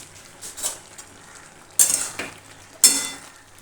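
A metal pot lid comes off a pan of soybean curry cooking on the stove: a few sharp metallic clinks and scrapes over a faint sizzle, the two loudest knocks close together near the end.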